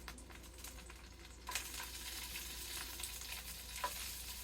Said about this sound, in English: We're going to put our peppers in